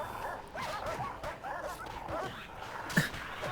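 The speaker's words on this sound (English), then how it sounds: "Surrounded by dogs." Guard dogs bark and yip in the video game Prison Architect, a cluster of short barks over busy game noise, with one sharper, louder yelp near the end.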